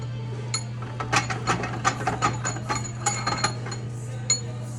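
A ratchet cranks down parts of a CA Tech Peak pump during reassembly, a run of quick metallic clicks and clinks in bursts over a steady low hum, close and fairly clear.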